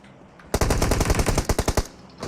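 Rapid automatic gunfire from a PUBG Mobile match, a loud close burst of about a dozen quick shots lasting over a second, then stopping.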